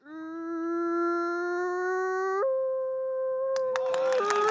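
A child mimic imitates a native dog howling, holding a long, loud, steady tonal howl that steps up in pitch, then drops lower before breaking into a burst of rough, noisy sounds.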